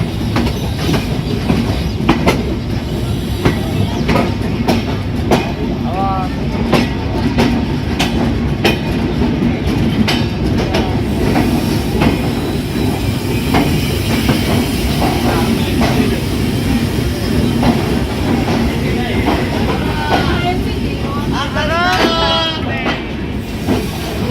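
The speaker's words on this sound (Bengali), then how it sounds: "পদ্মা সেতুতে প্রবেশ করলো খুলনা থেকে ছেড়ে আসা ঢাকা অভিমুখী সাতশো তেষট্টি আন্তনগর চিত্রা এক্সপ্রেস" Intercity Chitra Express from Khulna bound for Dhaka rolls across the Padma Bridge in Bangladesh, a steady loud rumble with rhythmic clickety-clack and brief wheel squeals throughout, with faint voices in the background.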